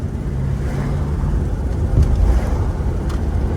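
A 1976 Cadillac Seville cruises along a road, its engine a steady low rumble under wind and tire noise as it holds speed, close and fairly loud, without talk.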